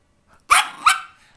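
Dogs bark twice in quick succession, loud and close, during a sung Happy Birthday, with a short pause between the two sharp barks.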